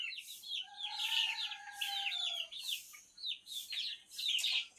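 Local desi chicken chicks peep and chirp in quick, high, overlapping bursts close by, with brief pauses between clusters of calls.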